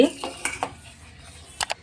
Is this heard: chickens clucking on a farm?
no